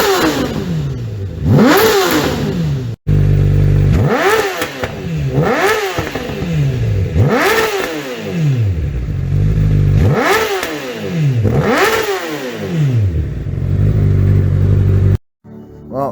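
A Yamaha R1 sport bike fitted with a new carbon fiber exhaust is blipped again and again, roughly six loud, close rev sweeps that climb and drop back to a throbbing idle, with a short gap near the start.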